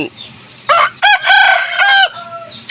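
A rooster crows once, loud and close, in a long drawn-out call broken into several rising and falling segments.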